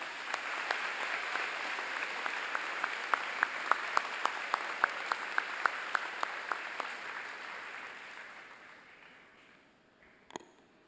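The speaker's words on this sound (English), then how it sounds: "Ladies and gentlemen, let's give them a round of applause." An audience at a 9/11 ceremony applauds in a steady, moderately distant wash of clapping that gradually fades out, followed by a single faint thump near the end.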